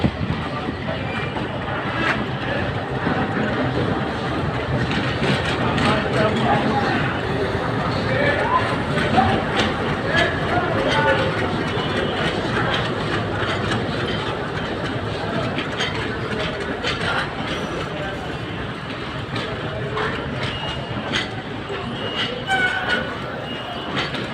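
A train from Gohonpur to Rajshahi stands or moves at a station with a continuous broad rumble, mixed with wind buffeting the microphone and the chatter of people nearby.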